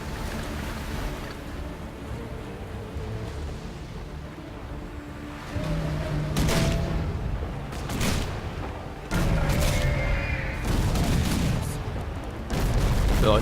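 Ship cannons in a Risen 3 sea battle fire several heavy, booming broadside shots that ring out over a steady rush of ocean waves and wind, with no voices.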